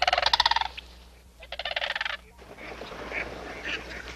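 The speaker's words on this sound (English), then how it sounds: "that loudest sound that we're hearing, that's Mr. Mallard" A mallard quacks loudly in rapid, rhythmic bursts, with a second run of quacks following, then quieter outdoor background noise.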